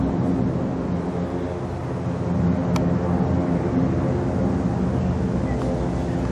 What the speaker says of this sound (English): check out these old planes going over.